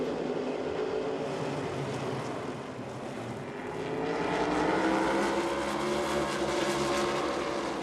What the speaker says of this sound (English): Gibbs getting after it out front with Carson Hocevar. Clean through turn 2, 77.